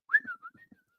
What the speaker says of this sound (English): I can whistle both out and in.